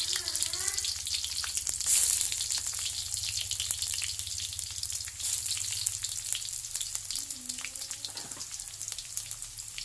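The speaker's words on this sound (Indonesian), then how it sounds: "Kita masukkan bawang merah dan putihnya dulu ya. Kita tumis." Shallots and garlic sauté in a pan with a steady, close sizzle that runs the whole time, joined by soft scraping and watery crackle, with a brief brighter hiss burst near the start.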